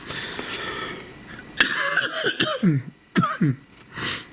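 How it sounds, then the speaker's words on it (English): A few harsh coughs close by, in short bursts over steady background hiss, followed by a final breathy exhale. "Almost made it without coughing."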